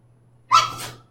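A single short, sharp sneeze bursts out close by in an otherwise quiet classroom, followed by a brief breathy tail.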